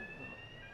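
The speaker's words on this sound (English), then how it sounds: "You heard the alarm." Smoke detector alarm sounding during a Testifire XTR2 detector test, a steady high-pitched electronic tone held throughout the short moment, close and moderately loud with no talking.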